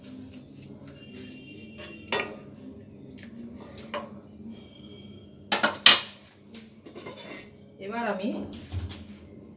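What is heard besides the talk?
putting the lid on a pot of vegetable soup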